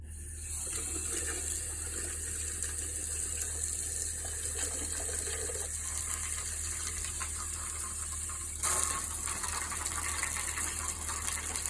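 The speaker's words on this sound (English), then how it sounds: "This is running hot water right now." Hot water runs steadily from a hose on a shower adapter into a sink or tub, a continuous near gush with a brief louder surge late on.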